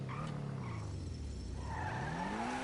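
Video game car in an acceleration and speed test: a continuous engine roar that dips and then climbs in pitch as the car speeds up, with tire squeal mixed in.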